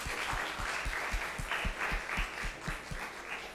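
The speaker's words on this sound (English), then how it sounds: "Can we give them a big round of applause," Church congregation applauding youth speakers during a live-streamed service, a moderate wash of clapping with a steady rhythmic thumping running beneath it throughout.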